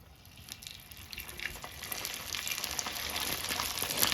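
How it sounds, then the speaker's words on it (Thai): Pork skin frying in hot oil, a faint bubbling sizzle that builds steadily louder and busier, with scattered crackles and spits throughout. "เอาหมูของเราลงไปทอด โดยเราจะเริ่มทอดจากฝั่งของ หนังหมูก่อนนะคะ"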